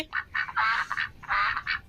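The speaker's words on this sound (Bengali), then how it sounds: "এখানে মা হাঁসটি দেখে ফেলে আর সে জোরে জোরে চিল্লাতে থাকে" A mother duck quacks loudly and repeatedly in quick bursts, close by, with no other voices.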